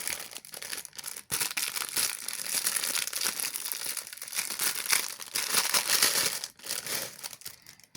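Parcel packaging holding doll clothes is wrestled open, giving continuous loud, close crinkling and crackling of plastic with bursts of tearing, constant and busy over several seconds with only brief pauses.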